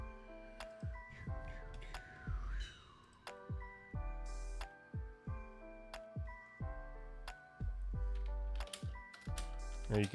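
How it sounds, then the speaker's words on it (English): Keys tapped on a computer keyboard in scattered clicks and short runs, mixed with other sharp mechanical clicks and tones, fairly quiet and with no talking. "Now you can hear me typing at least."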